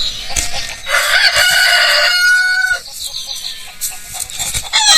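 Farmyard chickens cluck close by while a rooster lets out a loud, drawn-out crow, followed by more scattered clucking.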